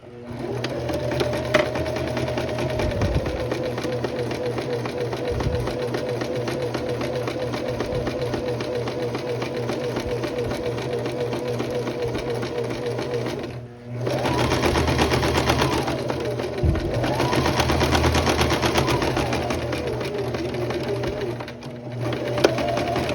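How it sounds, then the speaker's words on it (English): A sewing machine stitches a dress seam about a quarter inch down to hold the pressed seam in place, a loud steady close whir that runs almost continuously, with one brief pause partway through and no talking. "I'm sewing about a fourth down to press that seam down and hold it in place"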